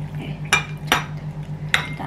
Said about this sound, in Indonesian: Terus kita aduk ya.